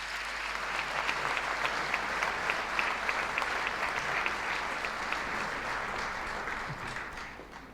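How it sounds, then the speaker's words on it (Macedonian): Steady applause from an audience at a Red Cross 70th anniversary ceremonial gathering, honouring award recipients, dense and sustained throughout without speech, tapering slightly at the end. "Ве молам да ги испратиме со аплауз добитниците на признанијата."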